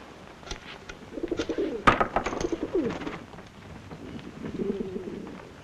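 Pigeons or doves coo in soft, rolling bursts at close range, with one louder flutter-like hit in the middle and a quieter coo sequence near the end.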